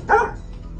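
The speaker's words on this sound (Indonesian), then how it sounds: "Dia tampak terkesima, berbalik dan mulai menggonggong lagi." A dog gives a single short, sharp bark, close and clear, followed by quiet background.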